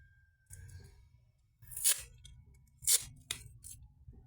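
Packing tape pulled and torn from a roll while wrapping something, giving two or three sharp, loud ripping bursts over a low background rumble, with no talking.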